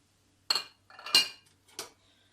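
A spoon stirring a sea bass sauce of olive oil, lemon, spices and salt, three distinct clinks and scrapes of metal against a dish, close and clear in a quiet room.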